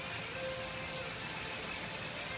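Rain pouring down in Burns Park, Arkansas during a thunderstorm, a steady faint hiss of drops hitting surfaces that holds even throughout, with no voices.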